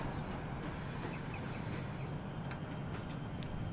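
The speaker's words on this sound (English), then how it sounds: "The Bentley Riverdowns commuter train." Bentley Riverdowns commuter train from a train video game, running steadily with a continuous low rumble and faint high squeals, with a few light clicks near the end and no voices.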